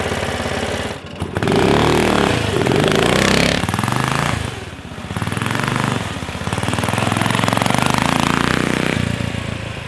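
Small 420cc engine on a home-built golf cart revving hard and steadily during a wheelie attempt, loud and close, with the pitch rising and dipping over several surges and no talking.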